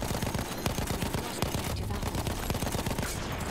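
Suppressing machine gun fire in a Battlefield game rattles on continuously in dense, rapid bursts, loud and close, with overlapping shots and echoing gunfire filling the whole stretch.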